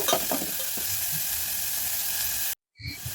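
Chopped onions sizzle steadily in hot oil for a North Karnataka junuka, a dense broadband frying hiss with a few stirring clatters early on, cutting briefly to silence near the end before resuming.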